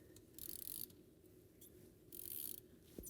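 A ratchet tightens the track adjuster on a Yamaha Sidewinder snowmobile: two bursts of close, faint clicking ratcheting with a pause between, plus a small knock at the end.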